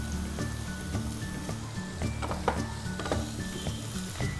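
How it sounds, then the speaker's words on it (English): Bamboo shoots and tofu sizzle and crackle in hot infused oil, a close, continuous frying hiss with scattered pops and a few stirring clinks. "While our bamboo shoots and tofu are cooking in the infused oil"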